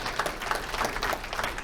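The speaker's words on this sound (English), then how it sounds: "Please give Assemblywoman Lupardo a round of applause." Brief applause from an awards ceremony audience for a state assemblywoman, a dense, even patter of many hands clapping at moderate volume.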